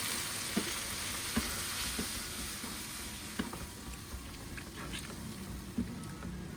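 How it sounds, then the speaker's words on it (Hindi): Tomato and spice masala for white lobia curry cooking over medium heat, a continuous sizzle and fry with scattered small pops and occasional stirring clicks. "मसाले को हम दरमियानी आंच पे 2 से 3 मिनट कुक कर लेंगे"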